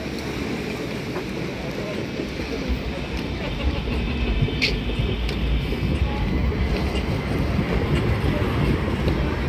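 A tram rolling past at its last stop on a Stockholm street, a steady low rumble with faint wheel clatter and a brief high squeal, heard outdoors over continuous city background noise.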